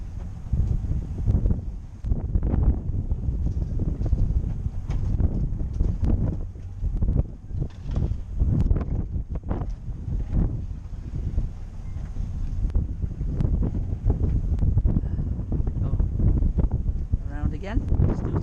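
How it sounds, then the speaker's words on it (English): Strong wind buffets the microphone on a boat during a crane lift-out, roaring in uneven gusts throughout with some nearby talk mixed in. "that wind is gonna kill us"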